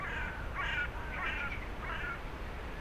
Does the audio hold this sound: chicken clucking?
no